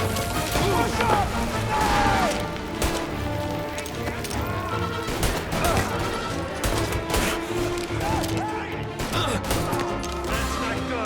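Chaotic Mafia: Definitive Edition shootout with scattered gunshots and cracking impacts over a dense layer of game music and ambience, continuous and busy throughout.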